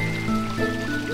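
Waterfall in the Final Fantasy 9 video game's Evil Forest area, a steady rushing, trickling water sound running continuously at moderate level with no speech over it.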